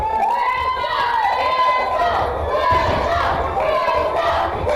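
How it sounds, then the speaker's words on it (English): Crowd at a wrestling show cheering and roaring steadily throughout, a loud sustained backdrop beneath the continuous talk of a commentator. "The crowd fully behind Will Starr."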